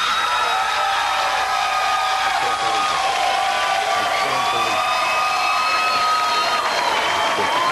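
A studio audience of a political talk show cheers and applauds loudly and continuously, with whoops and shouts rising from the crowd and no talk over it.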